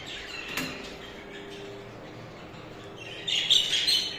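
Small pet birds in a breeding cage chirp in a quiet room, with soft scattered tweets early on and a brighter burst of chirping near the end, with no talk.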